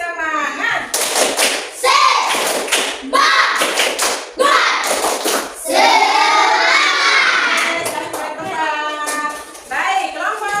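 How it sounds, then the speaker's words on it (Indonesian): A school class performs a rhythmic spirit clap in loud, patterned bursts of many hands, mixed with children's chanting voices and shouting close by. "Kita kasih tepuk semangat dulu, tepuk semangat."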